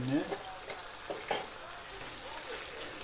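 Zucchini with salt, black pepper and red pepper flakes sizzles softly in a frying pan while being stirred, a quiet steady hiss with a few light stirring bumps and a brief faint voice at the start.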